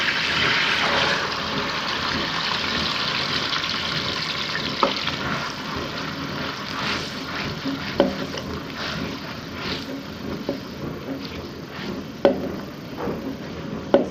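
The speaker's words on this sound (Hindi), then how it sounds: "घी अच्छे से गरम हो चुका है, अब हम इसमें प्याज का पेस्ट डाल देंगे" Onion paste sizzling and frying in hot ghee in a kadai for a fish curry, a steady loud hiss with occasional clinks and stirring knocks throughout.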